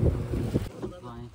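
Wind buffets a fishing boat at sea at the start of the fishing season, loud gusty rumble on the microphone that drops abruptly midway, leaving quieter wind and water noise.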